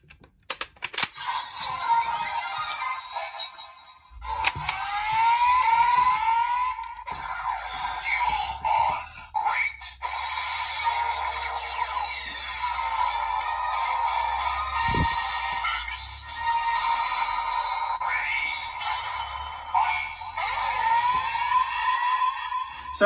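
Kamen Rider Geats DX Boost Raise Buckle toy plays loud electronic sound effects and music, with bright tones, chimes and clicks continuing steadily throughout, with no talking.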